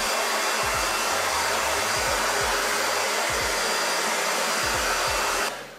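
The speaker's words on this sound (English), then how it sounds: "grabbing everything, pulling it forward, and then just blow drying it like this" A hair dryer blows steadily up close while blow drying a man's hair into a fluffy style, a constant airy roar with rhythmic low thumps from handling, then stops at the very end.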